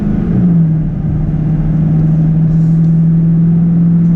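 A Derringer-tuned L5P Duramax diesel truck pulls hard at three-quarter pedal, its engine note sliding down and then holding a steady loud drone inside the cab.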